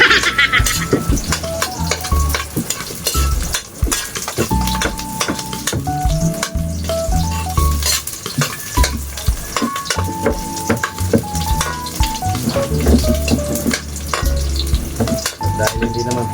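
Onion and garlic sautéing in a pan, a steady close sizzle and crackle with occasional stirring clinks, under background music.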